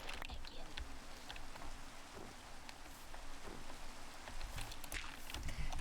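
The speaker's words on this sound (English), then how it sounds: "it is raining a lot around here" Steady rain falls in a video game, a dense, even hiss of drops that stays faint and continuous throughout, with a few soft clicks scattered through it.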